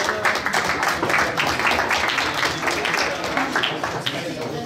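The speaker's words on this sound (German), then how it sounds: "Applaus." Applause from an audience at an award ceremony honoring winners of a stock-market trading game, sustained dense clapping with crowd noise and some voices mixed in throughout.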